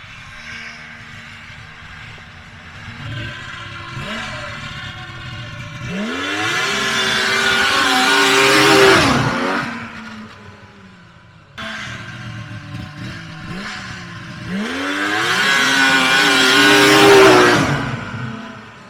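Motorcycle engine revving hard while blowing excess oil out of the crankcase, two long rising-and-falling rev cycles that climb to a loud roar, drop back, then surge again up close.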